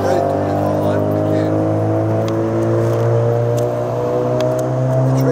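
Big-block 468 engine in a 1979 Chevrolet Malibu, held at a steady, loud drone with strong low harmonics and a slight rise in pitch, close by and unbroken throughout.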